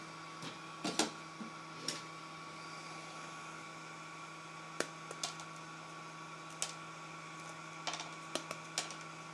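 A budget mini laser engraver cutting material at 80% power, a steady low fan hum with a faint tone, broken by scattered sharp clicks and ticks, close and quiet, no talk.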